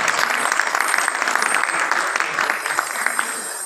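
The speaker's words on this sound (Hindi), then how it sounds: "अगर ताली बजाने को दिल कर रहा हो तो आप बजा लीजिए और अच्छी वाली ताली बजा लीजिए।" Audience applause at a tribute concert for a singer, a dense, steady wash of many hands clapping that carries on throughout, loud and close with no talk over it.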